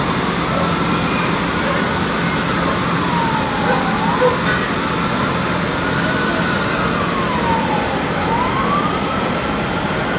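Fire truck sirens wail at a building fire in Pinagbuhatan, Pasig City, two sweeping rise-and-fall cycles cutting over a loud, constant roar of engines and street noise.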